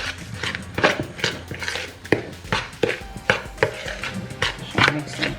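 Nutmeg and sugar being mixed together in a bowl for Ghanaian bamfo bisi, a steady series of close knocking and scraping strokes with no talking.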